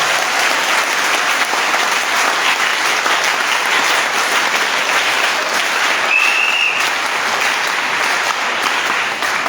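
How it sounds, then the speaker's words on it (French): A church congregation at a morning worship service applauds and cheers for the Lord Jesus Christ, a steady, loud wash of clapping that fills the whole stretch without letup. "Est-ce qu'on peut acclamer pour le Seigneur Jésus-Christ ce matin?"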